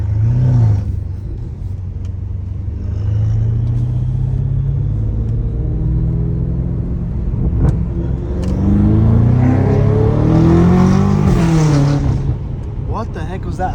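A straight-piped BMW M5 Competition rumbles loudly and close, its exhaust swelling through rising revs with a harsh, aggressive drone and a brief dip before climbing again.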